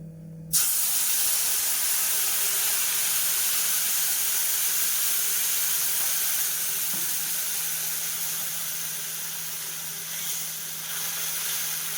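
Spices tempering in hot oil in a wok for a vegetarian long beans and chhena curry, a sudden loud sizzle that bursts in and holds as a steady, bright hiss, slowly easing toward the end.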